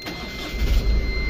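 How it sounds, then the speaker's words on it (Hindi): An Ashok Leyland truck engine runs steadily close by, a smooth low rumble that grows louder and fuller after a moment, with no voices over it. "अब ये इसकी ये इंजन की आवाज़ देख लेना भाई, कितना ज़्यादा स्मूथ है यार"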